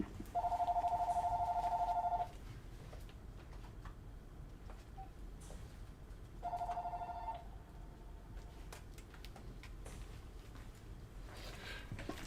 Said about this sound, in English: it wouldn't be a video if it didn't have phones ringing